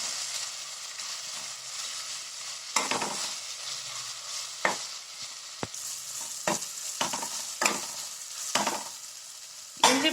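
Ginger garlic paste sautéing in a pan for veg salna gives a steady frying hiss, broken by several sharp scrapes and knocks of a spoon stirring against the pan, close and without talk.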